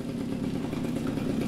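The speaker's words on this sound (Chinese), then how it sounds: "杨国良先生都会骑着摩托车到饼店开工。" A motorcycle engine runs steadily throughout, a close, even mid-pitched hum with light clatter, as it is ridden to a biscuit bakery in Melaka early in the morning. No one speaks.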